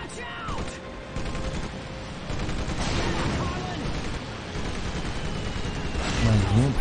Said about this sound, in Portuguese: Caindo bomba aqui, igual um maluco.